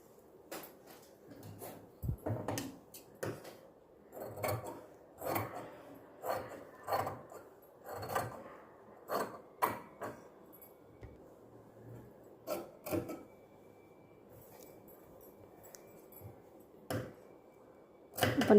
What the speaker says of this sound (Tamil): இப்போ பெல் பின்னை நம்ம ரிமூவ் பண்ணிவிட்டு இந்த கிளாத்தை கட் பண்ணி எடுத்துடலாம்.